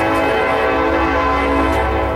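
A train passes nearby with a loud, sustained horn blast and a rumbling roar that holds steady throughout, with no talking.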